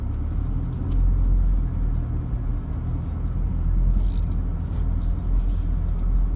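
A 4WD climbs a steep Dargo bush track slowly in first gear, its engine droning low and steady with slight swells in load as it crawls uphill.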